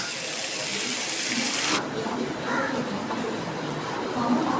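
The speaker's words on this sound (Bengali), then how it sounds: "আমার কষানো হয়ে গেছে আমি দিয়ে দিচ্ছি জল" Water pours into a frying pan of cooked-down fish curry with potatoes, a steady rushing splash for under two seconds, then the pan settles into a softer sizzle and bubble.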